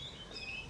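Small birds chirp softly in a quiet residential neighborhood of Bangkok, a few thin high calls over a low, calm background hum, with no one talking.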